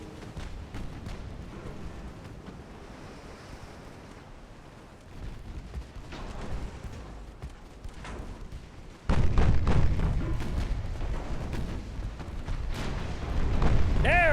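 Distant booms and rumbling detonations from a naval battle in Ultimate Admiral Dreadnoughts as a French warship fires broadsides, with a heavy blast swelling loud about halfway through and continuing thumps under game noise.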